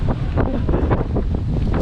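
Strong dry wind blows outdoors across rural farmland, making loud, steady buffeting gusts that roar against the microphone, with no voices.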